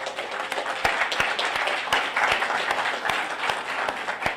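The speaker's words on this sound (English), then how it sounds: "you deserve a round of applause." Audience applause at a ceremony honoring a first-time judge, sustained clapping from a crowd with some louder individual claps standing out, heard alone without speech for several seconds.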